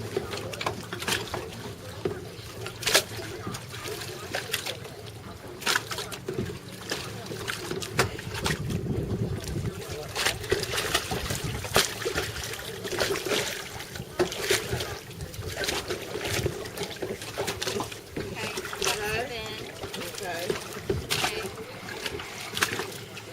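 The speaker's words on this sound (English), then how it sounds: "Now take a paddle and paddle." Kayak paddling on open water, with soft splashes and trickles from the paddle under steady wind noise on the microphone, while people talk intermittently nearby.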